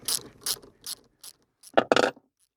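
Ratchet clicking as it loosens a front seat bolt on a Vauxhall Corsa D, four short spaced bursts of clicks followed by a louder, denser run of ratcheting close by, with no talk.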